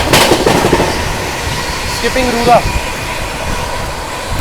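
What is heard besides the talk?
New Delhi–Jaynagar Swatantrata Senani Superfast Express train passing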